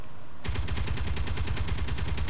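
Gun firing in Space Engineers: a sudden, sustained stream of rapid, evenly spaced shots that starts after a brief quiet moment and keeps hammering without pause.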